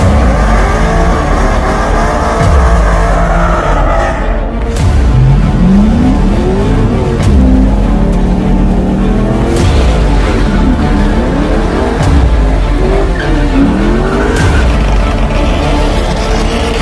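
A car is driven out of a home garage, its engine loud and close throughout with repeated revs rising and falling as it pulls out.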